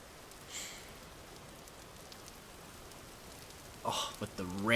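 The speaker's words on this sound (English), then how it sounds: "Oh, with the rain?" Steady rain falls across a medieval survival world in the game Vintage Story, a soft even hiss running throughout, with a brief voice near the end.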